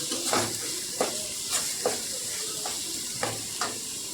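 Ginger garlic paste sautéed in hot oil for a steamed egg curry, a constant frying sizzle punctuated by about six rhythmic spatula scrapes against the pan, close and clear without speech.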